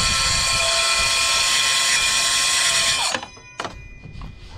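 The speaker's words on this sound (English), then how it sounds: "that is the track saw, nice and simple" A track saw plunges into a board along its guide track, its motor giving a loud, steady high-pitched whine for about three seconds, then spinning down with a falling pitch and a brief clunk.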